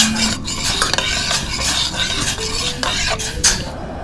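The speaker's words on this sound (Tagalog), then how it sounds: "dahil kumukulo na ang ating special sauce" A special sauce for crispy pork and tofu bubbles in a pot while a utensil scrapes and stirs against the metal, giving a busy, close scraping and sizzling texture.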